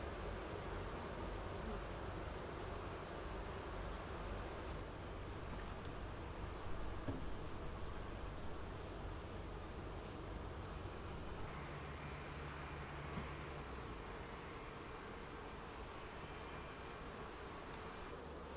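Honeybees hum around an open hive as marked frames go in ahead of introducing the queen: a dense, steady buzzing drone that holds at an even level for the whole stretch, close and continuous with no talking.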